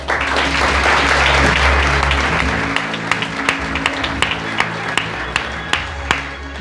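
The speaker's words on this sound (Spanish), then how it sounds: "quiero que le den un fuertísimo aplauso" Audience applause at a motivational business talk, sustained clapping over a low droning music bed, thinning toward the end into scattered individual claps.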